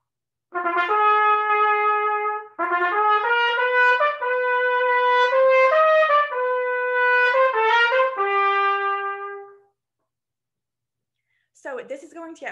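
A solo melodic instrument plays a fanfare-like passage from Otto Ketting's Intrada, clear rising and falling notes in several phrases, then silence and a brief start of speech.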